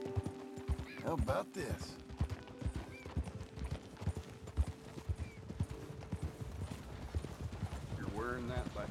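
Video game horse hooves clip-clop steadily with a whinny near the end, heard under ongoing character dialogue and game background sounds.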